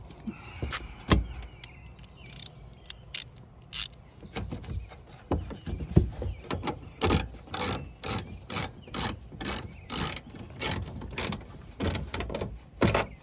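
Small ratchet tightening the tail light bolts on a Nissan Altima, a close series of quick clicking pawl bursts, sparse at first and then settling into a steady repeating rhythm.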